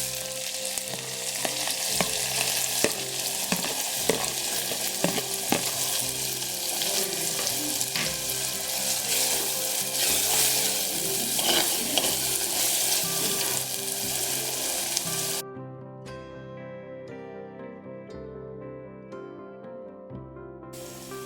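Fenugreek seeds, two dried red chilies, mustard seeds and a crushed spice mix fry in hot oil for rasam, crackling loudly and steadily for about fifteen seconds before the sizzle cuts off and gentle music takes over.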